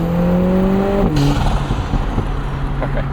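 A 2024 Lotus Emira Turbo sports car with a 400 hp AMG engine drives on an evening commute; a steady engine tone drops as revs fall, followed by lower rumbling and brief pops, heard up close from the cabin.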